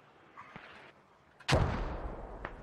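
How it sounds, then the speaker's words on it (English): Incoming mortar fire in a Squad Ops operation: a faint thump, then one sharp heavy blast landing nearby with a long rumbling tail, followed by a fainter distant crack. "Mortars coming in."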